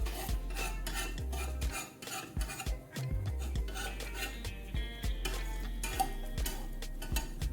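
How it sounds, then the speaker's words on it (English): A utensil scrapes around the sides of a pan holding a frittata on a stove at medium heat, making quiet, close, irregular scrapes and taps with a faint sizzle underneath and no talk. "So I'm just scraping down the sides of the pan."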